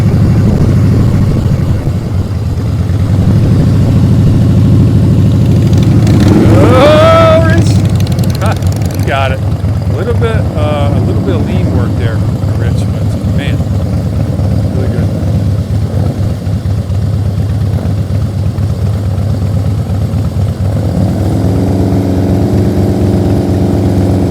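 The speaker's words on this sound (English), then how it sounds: "he's revving it too much. Oh, it's scary with the revving." A motorcycle engine drones steadily, then rises in a brief rev burst before settling again. People talk over the running engine throughout.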